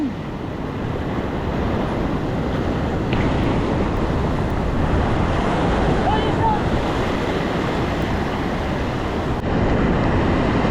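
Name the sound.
ocean waves around a small boat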